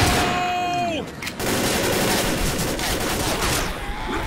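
Sustained dense gunfire in the video game Left 4 Dead, a loud continuous barrage of rapid shots with a brief dip partway through, heard up close without pause.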